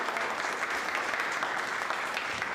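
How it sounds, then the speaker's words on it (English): A seated crowd at a book event Q&A gives a steady, dense round of applause that stays even throughout. "could you all give a round of applause"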